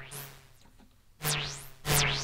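Modular synth patch with a Varigate 4+ sequencer producing quiet, noisy sweeping tones that swoop down and back up, a pair of louder swooping bursts near the end over a low steady hum.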